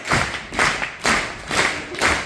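Old-style gospel hand clapping, a steady beat of five loud, evenly spaced claps about half a second apart, close and alone.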